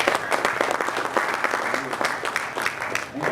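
An audience claps for a live band introduction, uneven applause with distinct individual claps standing out, moderately loud and close, a faint voice mixed in.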